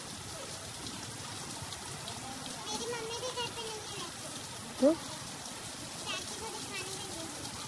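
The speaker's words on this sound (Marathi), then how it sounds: "गाईज मजबूत पाऊस चालू गेला आहे" Steady, dense monsoon rain patter fills the whole stretch at a college, with faint voices and brief bursts of activity mixed underneath.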